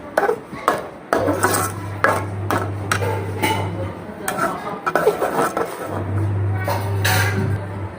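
A spoon stirs sugar syrup in a pan while making shahi tukda, giving scattered metallic clinks and scrapes over a steady low hum, with a voice talking throughout.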